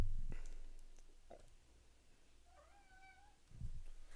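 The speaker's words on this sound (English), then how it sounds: "My cat says hi" A pet cat near a computer gives a soft meow, a wavering tonal call in the middle of the clip, faint over room noise, with a few light clicks and low bumps around it and no talking.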